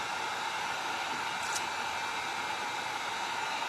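A hair dryer blows a steady, faint whooshing stream of air across a painting being prepared for resin, continuous and alone.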